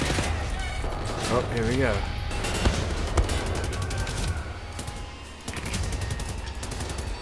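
Gunfire rattles on and off during Wolfenstein: The New Order combat, with rapid automatic bursts and sharp single shots close by while someone talks over it.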